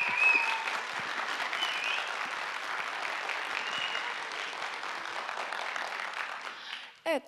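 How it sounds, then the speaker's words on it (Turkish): An audience at a school debate event in Sarayönü, Halkapınar gives loud, sustained applause, dense clapping filling the room for several seconds before tapering off abruptly. "İkinci savunucumuz, kuvvetli alkışlarınızla Gülistan Rabia Ceren."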